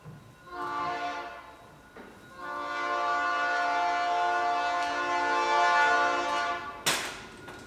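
A train goes by near a truck repair shop, its horn blaring in long, steady, loud blasts. The first short blast is followed by a sustained one, and the rumble of the train runs underneath.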